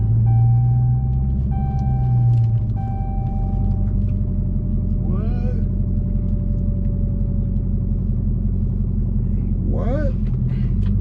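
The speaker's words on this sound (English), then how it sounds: "And now we're back to driving." A Dodge Hellcat stripped of its seats rumbles steadily while driving, a deep continuous engine drone running the whole stretch, with a couple of brief higher chirps and tones passing over it and no speech.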